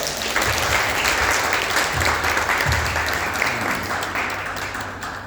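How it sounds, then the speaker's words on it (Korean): A church congregation applauding during a Sunday service, a dense, loud wash of clapping from many hands that holds steady for several seconds and then begins to fade slightly. "우리 모두에게 우리 축복의 박수 한번 할까요?"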